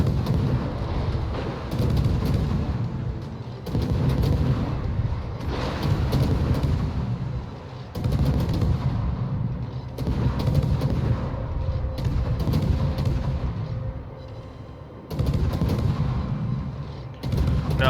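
Rapid salvos of heavy naval gunfire in World of Warships, a Harugumo destroyer firing in a ranked match, booming continuously and loudly with short lulls between volleys, no talk.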